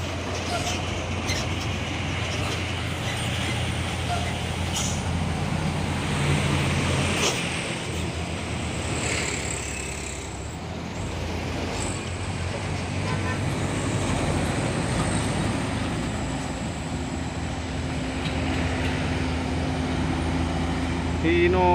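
Heavy trucks crawl along a busy, congested road from Riau toward Sumatra, a continuous loud low engine drone and rumble with passing whooshes and no break for the whole stretch.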